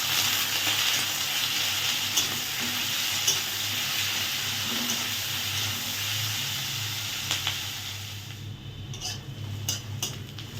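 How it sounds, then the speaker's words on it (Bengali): Salted onions sizzle steadily in a pan at close range, a continuous hissing fry with a few utensil clinks toward the end and no voices. "ভালো করে ভেজে নেব।"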